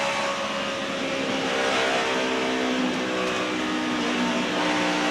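A NASCAR Sprint Cup race car engine roars steadily on track during practice, a loud continuous high-revving drone holding at full throttle with no talk over it.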